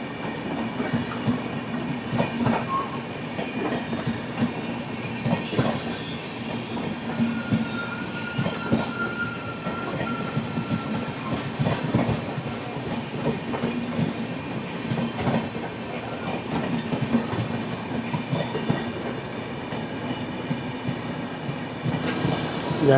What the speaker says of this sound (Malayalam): ജനശതാബ്ദി എക്സ്പ്രസ് വരുന്നുണ്ട്.